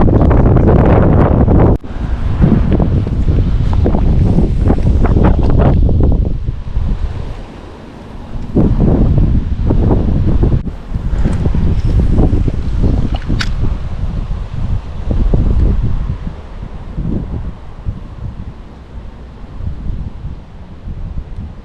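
Strong wind buffets the microphone at a Florida fishing spot, loud roaring gusts that rise and drop away in waves, with quieter stretches between bursts and a faint wash of water beneath.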